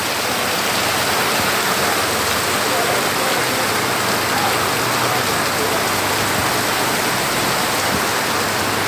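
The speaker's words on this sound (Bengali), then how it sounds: "প্রচুর পরিমাণে বৃষ্টি হচ্ছে," Heavy rain pouring down at a village market, a dense, steady, loud hiss of water striking surfaces that stays unbroken throughout.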